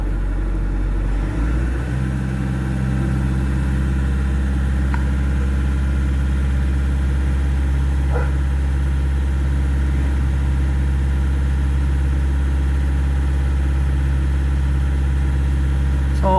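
A Nissan NV350 diesel with a common rail system, troubled by low power and throttle delay, starts up and settles into a steady, loud, low idle rumble that holds evenly throughout.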